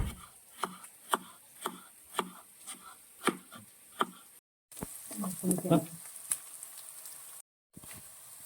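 Onion, green chilli, ginger and garlic sauté in a pan, with a steady sizzle under a run of sharp rhythmic taps like a spoon or spatula striking the pan, followed by a busier burst of stirring and frying.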